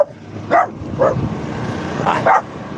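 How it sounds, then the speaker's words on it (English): A dog barks four times nearby, irregular sharp woofs spaced about half a second to a second apart, loud over a faint background hum. "They got a dog."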